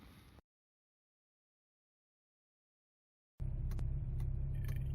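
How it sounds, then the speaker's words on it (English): A 1996 Citroen Xantia 2.0 16V fires into life after a long silence, settling into a loud, steady close-up idle with a few brief clicks and ticks on top. "let's start her up and have the flickering lights"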